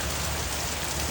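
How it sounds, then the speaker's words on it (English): Steady rain falls in a dense, even hiss of drops striking a surface, constant and close with no gaps across the short stretch. "video the rain so I can go back and look at it myself later, because it's soothing to me."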